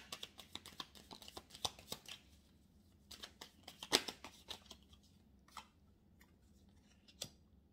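Tarot cards are handled and one is drawn from the deck, giving soft crisp flicks and sliding snaps in scattered bursts, close and quiet with no talk.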